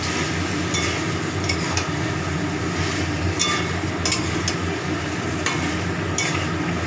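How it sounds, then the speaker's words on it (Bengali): Chicken with garam masala being stirred and sautéed in a pan, a continuous close sizzle with periodic spatula scrapes and clinks against the vessel, steady and unbroken without speech. "আর গরম মশলাও দিয়ে এখনও অনেকক্ষণ কষবো চিকেন ভালো করে কষানো হচ্ছে"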